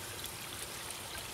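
Water from a garden pond waterfall runs in a steady, soft trickling stream around a 1,200-gallon pond, faint and continuous with no voices.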